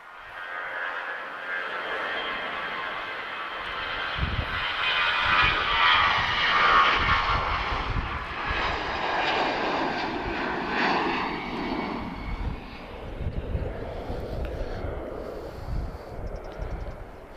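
An Azores Airlines airliner in natural livery takes off at Lisbon Airport, its engines building to a loud, rumbling roar that peaks midway and then slowly fades as it climbs away, with no talk over it.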